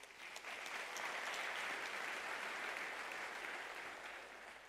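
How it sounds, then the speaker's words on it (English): Applause for an honorary degree recipient at a university graduation ceremony, a soft, distant wash of many hands clapping, steady and even throughout without a clear ending. "I think she deserves a round of applause."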